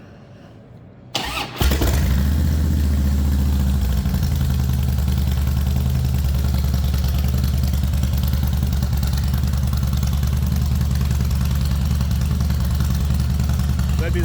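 A 2007 Harley-Davidson Softail Deluxe with a 96 cubic inch Twin Cam V-twin cranks briefly, catches with a sharp burst and settles into a loud, steady, close-up idle with a lumpy low throb, with no talking.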